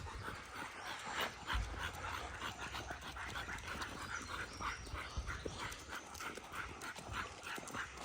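American Pit Bull dogs on a walk whimper and give small yips amid faint jingling and footsteps, quiet and somewhat distant, with no clear talk.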